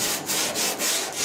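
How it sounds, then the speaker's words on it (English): Steady back-and-forth scraping of a sanding block over primer-surfacer on a 1966 Ford F100 dash and firewall, about four even strokes with brief pauses between them, close and fairly loud. "you sand with this block"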